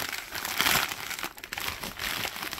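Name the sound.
cutting open a plastic bag of diecast models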